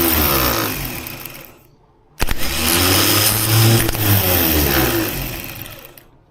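A 1976 BMW 2002 engine turning over after assembly: a loud mechanical engine run fades briefly, then cuts back in with a sharp start and a steady churning drone that tapers off at the end.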